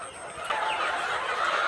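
Three-and-a-half-month-old chickens cluck and squawk in a coop, their calls overlapping closely and continuing through the short stretch with no speech.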